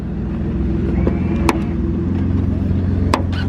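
A loud BMW 435i exhaust rumbles close by with a steady, raspy drone and a couple of sharp pops or clicks over the top.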